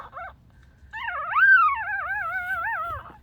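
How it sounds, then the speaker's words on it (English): A young dog lets out a short yip, then a long, wavering high-pitched whine or howl, close by and fairly loud. "So this is this little party girl barking"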